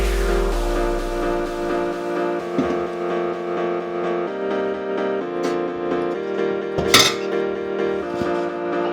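A few sharp clinks of plates and utensils sound as cooked rice flour puttu is served onto a plate, heard over a steady humming tonal background, with the loudest clatter near the end.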